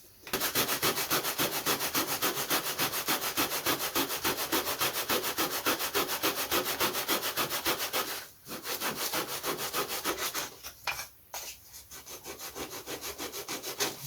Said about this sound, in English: So I'll sand the ribs to match.